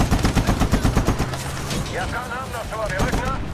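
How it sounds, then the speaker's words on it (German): Rapid bursts of gunfire crackle and pop continuously in the video game Medal of Honor, layered with booming mortar blasts and a voice talking over the chaotic battle noise. "hier knallt und explodiert gerade alles"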